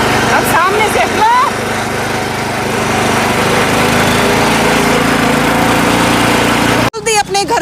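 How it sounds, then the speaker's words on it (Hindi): A very small, cheap mini tractor's engine runs loud and close with a steady buzzing putter, while people talk over it; the sound cuts off abruptly near the end. "भारत का सबसे छोटा ट्रैक्टर, सबसे सस्ता ट्रैक्टर"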